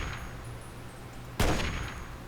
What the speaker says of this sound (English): Let's see if I can line up a headshot with that one.